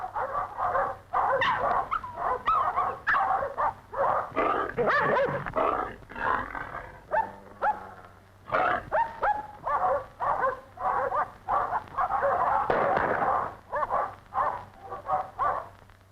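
Dogs bark, yip and growl while fighting a boar in a frantic, nearly continuous frenzy, loud and close, with whimpers mixed into the chaotic scuffle.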